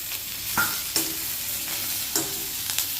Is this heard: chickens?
no